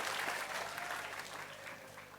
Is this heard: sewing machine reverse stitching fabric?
no